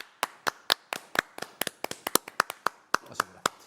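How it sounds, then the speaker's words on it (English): Studio hosts give a round of applause at a crafting shop's birthday broadcast, a small group clapping in sharp, close, uneven bursts for several seconds. "Four-minute round of applause."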